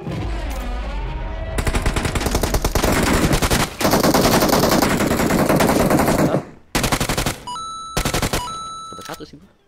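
Loud bursts of automatic gunfire in the battle-royale game PUBG, with rapid rattling volleys, short pauses between them and a few clicks near the end, heard up close.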